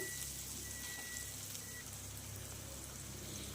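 Onions fry with salt in an oily pan, a soft, even sizzle and hiss held steady throughout, quiet and close with no voices.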